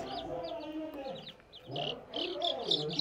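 Two-week-old local chicks and hens cluck and chatter nearby in short, irregular bursts, with a few sharper calls rising over a soft murmuring background.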